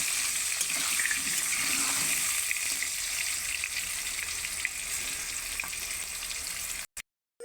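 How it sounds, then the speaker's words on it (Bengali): Papaya pieces frying in oil make a loud, steady, hissing sizzle close by with no talk, running continuously before cutting off abruptly near the end. "পেঁপেটা দিয়ে দিয়েছি, পেঁপেটা ভালো করে লাল করে ভেজে নেব।"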